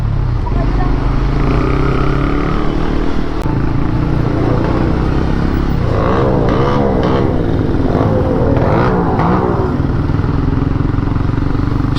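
A Ducati Scrambler motorcycle engine idles with a steady, low throbbing rumble, close by and continuous, with some clattering traffic sounds mixed in.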